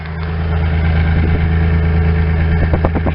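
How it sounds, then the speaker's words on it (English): A car engine idles with a steady low rumble, close and loud, with a few brief uneven pulses near the end. "most of the engine noise is from the bay"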